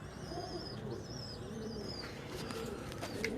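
Pigeons coo softly in a steady low murmur on a rooftop, with faint chirps rising above a constant outdoor hum.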